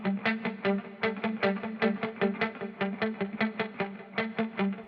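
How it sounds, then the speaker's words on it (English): A rhythmic, spacey 1980s-style electric guitar drenched in echo and chorus, each plucked note repeating in steady pulses, played alone in a song mix. "And a bit of echo."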